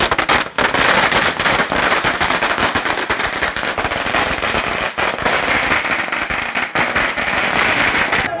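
Firecrackers set off at a BJP party celebration burst in a rapid, unbroken crackling barrage, loud and close, continuing for several seconds with no talk heard.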